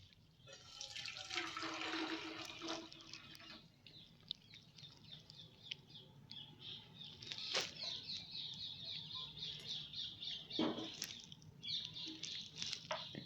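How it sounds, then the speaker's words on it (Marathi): Jaggery water, just taken off a gas flame, poured through a strainer to catch debris: a steady watery trickle and splash that swells and fades over several seconds, with faint background clucks and clatter and no talking. "हे गुळाचे पाणी आपण गाळून घ्यायचं आहे"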